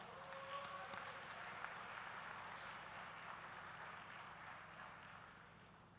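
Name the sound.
graduation ceremony audience applauding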